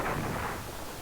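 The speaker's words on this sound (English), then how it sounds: "Some freaking explosion there." An explosion in the SNES game Star Fox, a short, harsh, noisy burst that fades quickly.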